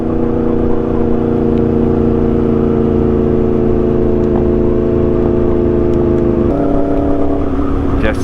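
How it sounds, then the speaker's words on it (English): A loud motorcycle engine drones steadily while cruising at night, a dense close-up rumble with harmonic hum that shifts pitch slightly partway through as the revs change, with no talk heard. "it's so hard not to be loud with this damn bike"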